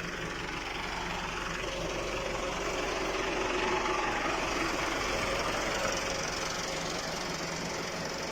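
A Massey Ferguson 385 tractor engine runs at low revs while hydraulically lifting a 20-foot trolley, making a steady, close diesel rumble with a continuous knocking throb and no pauses.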